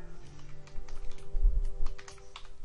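Keys clatter on a computer keyboard in a quick, uneven burst of close taps, with a steady electronic hum underneath and no voices.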